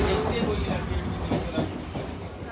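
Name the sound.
train at CST railway station, Mumbai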